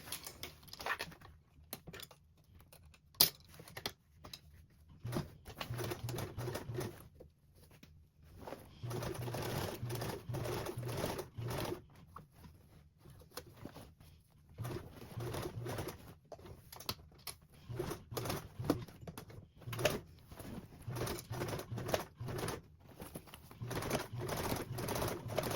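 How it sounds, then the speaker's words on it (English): A sewing machine stitches down the side of a duffle bag toward a gap in the seam. It runs in repeated bursts with quiet gaps between, close and moderately loud. "I just need to sew down till I get to the start of my birthing gap"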